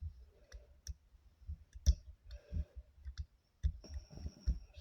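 Dial of a PL410 Pro padlock being turned, giving a series of faint, irregular small clicks close by with a few louder snaps and a brief ringing tone near the end.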